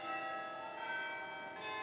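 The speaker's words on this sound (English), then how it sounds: "The carillon is very much an external instrument, and the 44 bells hang in the bell tower, and when they're rung, their sound is meant to go out" Carillon bells in the bell tower of Grace Cathedral, a 44-bell instrument, ring out with sustained, overlapping tones that shimmer and decay steadily from a distance, with no talking.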